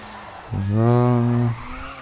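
Tire squeal from a car drifting in Race Driver: GRID, a loud sustained tonal screech lasting about a second over engine noise, then fading back to the running car.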